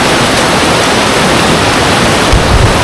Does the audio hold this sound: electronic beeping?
no